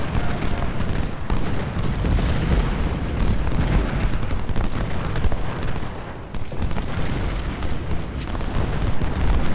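Civil War battle in the strategy game Ultimate General brings a dense, continuous roar of artillery and musket fire, with booms and crackles blending into a loud, steady din.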